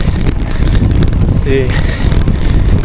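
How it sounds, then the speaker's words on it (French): Strong Autan wind buffets the microphone on an uphill road in southern France, a constant low roaring rumble across the whole clip with someone speaking French briefly over it. "vraiment le vent me pousse en face"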